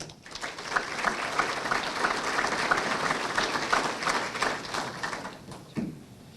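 An audience at a legislative update breakfast applauds to welcome the moderator, with steady, dense clapping throughout that fades near the end.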